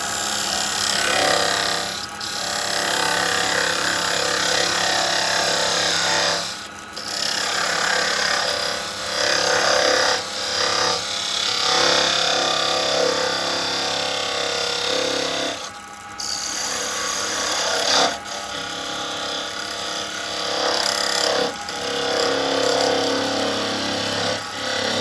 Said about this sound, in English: I'm going to come in with my parting tool, my thin parting tool